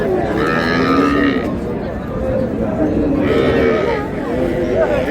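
Cattle at a market, with two drawn-out moos rising over steady crowd chatter and background noise.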